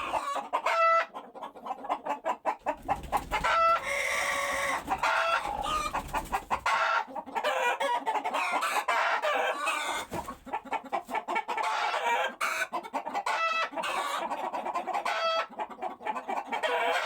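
A rooster crows loudly and close by, with repeated clucking between crows, and no voices.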